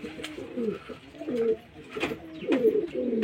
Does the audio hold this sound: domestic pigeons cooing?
yes